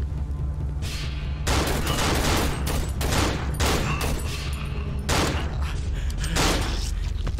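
Gunfire in the horror video game Cry of Fear, bursts of dense, rapid shots layered over a constant loud rumble, heavy and continuous across the whole stretch.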